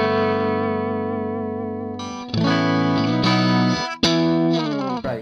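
An electric guitar played through a Zoom G3XN multi-effects processor rings out with a sustained, effected chord, then a few more strummed chords with heavy distortion and shimmering modulation, loud and close.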